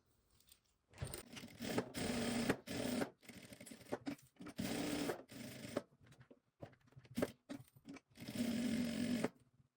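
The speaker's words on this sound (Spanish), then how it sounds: "y pasamos una costura por el borde." Sewing machine stitching a seam along the edge of a fabric needle case, running in short bursts of rapid stitching separated by quiet pauses.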